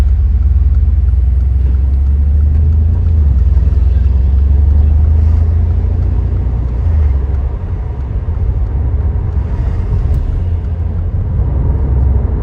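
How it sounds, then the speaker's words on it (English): Steady low engine rumble from a car being driven on scenic roads, continuous and loud throughout with faint road noise above. "I never get to drive this car too much"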